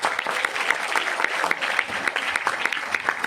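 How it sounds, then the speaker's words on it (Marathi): An audience applauds steadily at an event for the Marathi film Mission Ayodhya, a dense, even patter of many hands at moderate loudness with no voices over it. "सर्वप्रथम तुम्हासाठी स्वतःसाठी टाळ्या मला एकदा ऐकायला."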